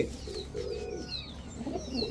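Giribaz pigeons cooing in low, soft bursts with a few thin chirps above, faint and continuous, with no voices.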